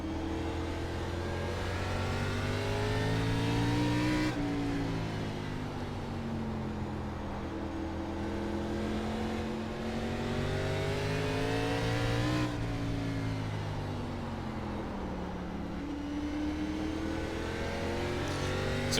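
Race cars roaring around the Southern National track in the iRacing ARCA Menards Series sim, several engines droning steadily at moderate level with pitch sweeps as cars shift and pass, and no voices.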